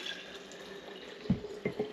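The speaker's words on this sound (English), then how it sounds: "I'm going to take a jar and basically pour my hot water in it." Hot water boiled in a microwave is poured into a jar, giving a soft, steady trickle close by. A few brief splashes and clinks break through near the end.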